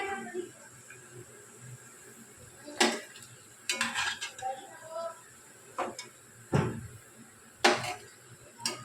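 A fried potato kachori is lifted out and set on a plate, giving a few light clinks and clatters at intervals over a quiet kitchen background.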